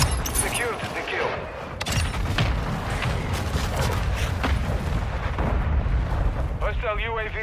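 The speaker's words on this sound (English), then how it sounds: "Mortar support incoming!" Mortar strike explosions in Call of Duty Modern Warfare 2 land as a dense run of heavy booms and crackling blasts over constant battle noise, with voices talking briefly near the end.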